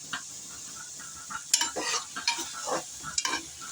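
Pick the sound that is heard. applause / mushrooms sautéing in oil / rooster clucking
mushrooms sautéing in oil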